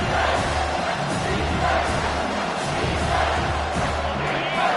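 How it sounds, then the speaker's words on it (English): A big stadium crowd roars at a football game on third down, a loud sustained wall of cheering and yelling that surges in waves and never lets up. "this crowd is tearing the lid off this place"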